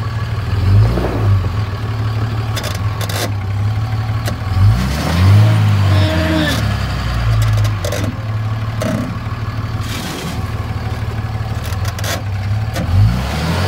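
A pickup truck hauling a fifth wheel travel trailer strains its engine uphill, a steady loud drone that rises and falls in pitch with revving throughout, close and continuous.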